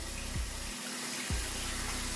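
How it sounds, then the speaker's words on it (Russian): Shaving brush soaked and swished in a sink of water, a steady close splash and running-water wash with brief tap-like surges, no talk. "Помазок купаем."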